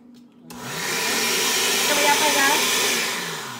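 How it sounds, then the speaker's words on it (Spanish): Kitchen blender processing milk for homemade cream: a sharp start followed by a loud, steady whirring roar that runs on evenly and begins to ease off near the end, heard alone. "Y lo que voy a hacer yo es procesarlos aquí en mi licuadora."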